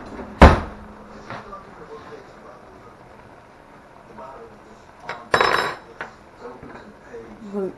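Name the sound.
spoon clinking in pot while tasting sauce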